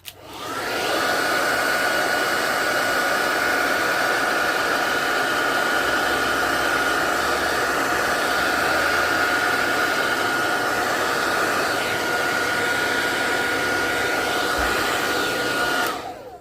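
A hair dryer runs steadily for about fifteen seconds, heating PVC shrink film wrapped around rolls of coins, a continuous close whooshing drone with a faint whine, starting and stopping abruptly.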